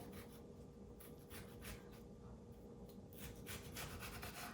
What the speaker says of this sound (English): I'm gonna continue slicing up and we'll get these in the oven.